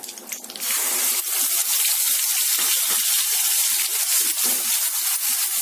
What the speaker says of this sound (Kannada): ಜೀರಿಗೆ ಸ್ವಲ್ಪ ದಪ್ಪ ಆದ ತಕ್ಷಣ ಈರುಳ್ಳಿ ಪ್ಯೂರಿ ಹಾಕೊಳ್ಳೋಣ